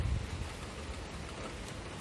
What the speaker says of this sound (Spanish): Se ha puesto a llover.